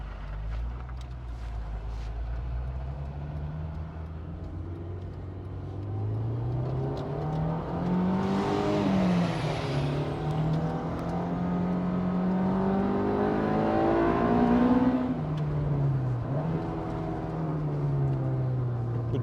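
A 2002 Honda S2000 drives and revs from inside the cabin, the engine note climbing and falling through several gear changes, loud and continuous with a sharper rise mid-run.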